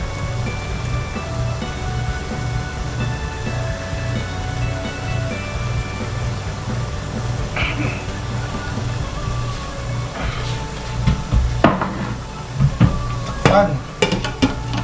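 Sautéing in a pan, a steady close sizzle with stirring scrapes and clinks of a utensil that grow louder toward the end.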